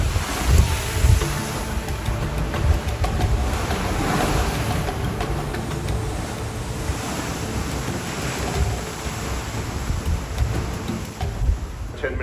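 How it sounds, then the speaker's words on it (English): Heavy seas in the Irish Sea during Storm Bertie, heard from a cruise ship: continuous roaring surf and crashing waves with strong wind buffeting the microphone, loud and unbroken throughout. "This is what heavy seas look like in the Irish Sea during Storm Bertie."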